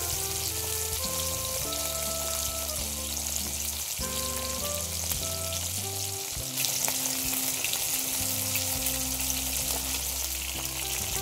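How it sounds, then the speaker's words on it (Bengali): Pieces of rohu-type pona fish fry in hot oil in a wok, giving a loud, continuous crackling sizzle throughout, alone, with a steady hum underneath. "তেলটা গরম হয়ে গিয়েছে, এবার মাছটা দিয়ে দেবো।"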